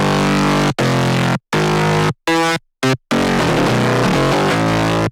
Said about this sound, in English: a nice, delicious, fat mid-bass layer that sounds like this